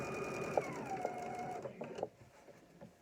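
A sewing machine stitching a fabric face mask runs in a steady whirring buzz that rises and falls in speed, with a few sharp clicks, then slows and stops near the end.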